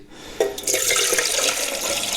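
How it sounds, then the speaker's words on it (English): Water pours steadily into a camp stove pot, a bright splashing rush that starts after a short pause and continues without talk. "Pour in my water"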